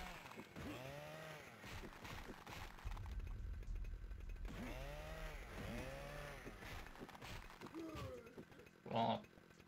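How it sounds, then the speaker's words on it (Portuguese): A chainsaw wielded by an enemy in the Nightmare Creatures 2 video game revs repeatedly in rising and falling bursts, with clanking combat effects around it and a sharp hit near the end. "Tirar esse motosserra dele."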